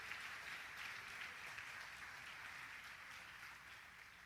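A church congregation claps together at a Portuguese-language service, a faint, even patter of many hands held steady from start to finish with no talking.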